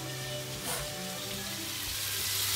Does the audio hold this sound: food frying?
yes